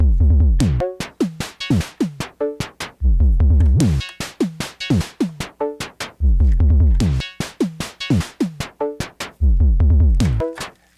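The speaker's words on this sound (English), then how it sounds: "So today we are going to create a kick, snare, tom, hat, and another little perk." Drum sounds synthesized on a Novation Bass Station II play a looping pattern of deep kicks, snappy snares, pitched toms and short hats, loud and punchy and repeating with no talk.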